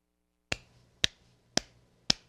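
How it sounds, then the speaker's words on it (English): A single person clapping, four sharp isolated claps evenly spaced about half a second apart, close and crisp against silence. "I'm actually giving it a genuine clap"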